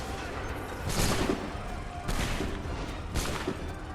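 Musket volleys crack out in the video game Assassin's Creed III, three loud, spaced bursts of massed gunfire about a second apart over a low rumbling backdrop.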